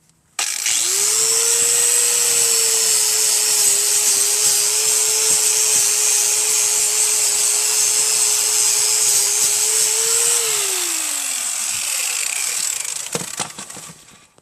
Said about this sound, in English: Sharpen the blades, but I gotta clean them up.